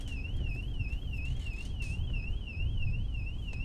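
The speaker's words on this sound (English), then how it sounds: "the fucking alarm is going off again" A car alarm wails continuously on a New York City street during a bike ride, its rising and falling siren tone loud and steady over heavy low traffic and wind rumble.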